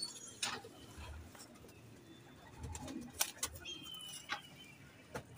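Soft, low pigeon coos sound close by on a rooftop, intermittent and faint over quiet background noise, with a few scattered clicks and flutters.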